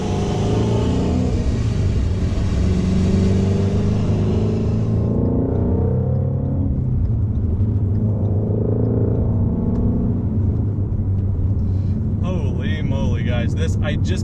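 A new Ford Mustang Shelby GT350 engine revs to about 3,500 RPM, a loud rumbling roar that swells over the first few seconds, then settles into a steady deep drone. Voices talk over it throughout, and the sound is captured from close by.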